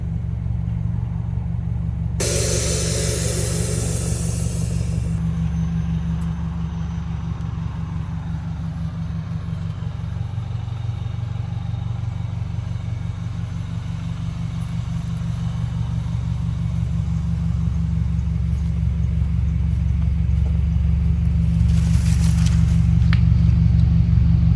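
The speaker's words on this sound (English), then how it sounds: "Let's go ahead and air this thing out." Air suspension bags on a Mazda3 vent out in a loud, close burst of hissing lasting a few seconds, with a fainter second hiss later, all over the car's steady idling rumble.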